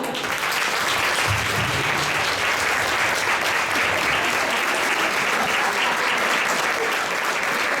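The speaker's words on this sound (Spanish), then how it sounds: "Ahora sí, un aplauso para ella." Loud, dense applause fills an award ceremony hall for a prize recipient, continuous and full throughout with many hands clapping at once.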